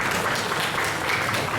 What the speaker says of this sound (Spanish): Fuertes palmas para Kaire.